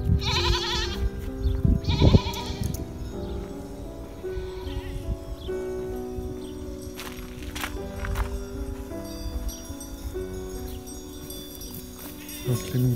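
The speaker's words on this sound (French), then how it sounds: "Donc les moutons, les chèvres au milieu des moutons." Sheep and goats in a flock near Vila Nova de Milfontes, Portugal, bleat in a few loud, close calls early on, then fade into quieter shuffling and distant animal noise across the open farmland.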